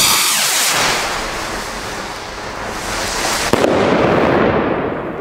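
Gaoo Hammer rocket fireworks bursting with loud, continuous crackling and booming that fills the whole stretch, with a sharp bang near the end and wind rumble on the microphone.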